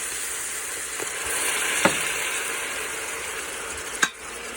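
Steady, hissing sizzle of sloppy joe filling frying in a hot pan, with a couple of brief scrapes or clinks, no talking.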